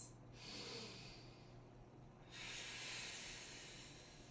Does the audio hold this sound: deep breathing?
yes